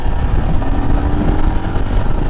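A 2023 Royal Enfield Himalayan motorcycle's exhaust rumbles steadily and loudly while riding, a continuous low engine drone with no talking over it.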